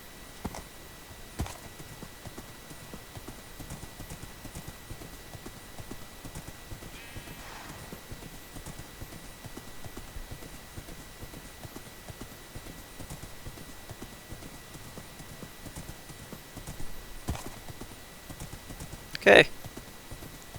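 Minecraft horse hooves clip-clopping across a bridge in a survival let's play, soft steady steps under game ambience, with a short neigh near the end and a player speaking briefly.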